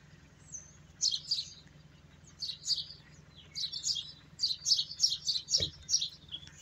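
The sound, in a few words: birds chirping on an old church building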